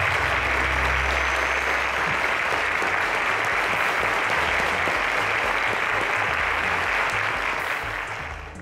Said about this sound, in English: A round of applause to him, please.